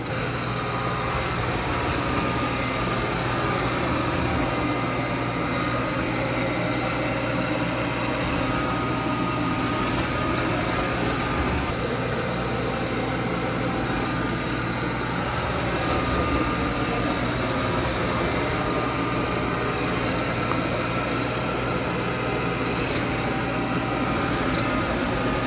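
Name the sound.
Roomba 105 robot vacuum running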